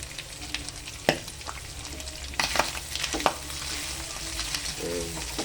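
Pork browning in a pan for Filipino menudo gives off a steady close sizzle and crackle, with scattered sharper pops and a few light clinks of a spoon against the pan.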